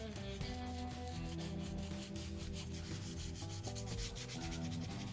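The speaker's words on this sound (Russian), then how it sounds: "пришлось осваивать навыки шлифовки и полировки смолы" Steady back-and-forth hand sanding of epoxy resin with sandpaper, a close, continuous scratchy rasp with no voices.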